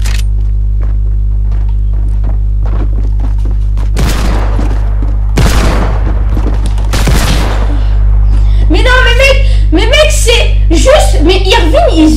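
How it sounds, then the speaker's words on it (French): Gunfire from a shooter in a video game, several loud bursts of shots in the middle over a steady low hum, followed by people talking. "Pourquoi il tire sur tout le monde?"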